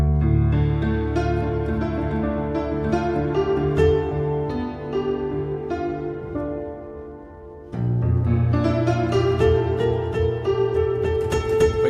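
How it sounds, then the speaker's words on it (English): Old piano from the Soundiron Harmonic Tides sample library heard through its second microphone position, playing sustained chords and melodic notes, loud and solo with a brief softer dip before a fuller passage. "Then we switch on microphone number 2."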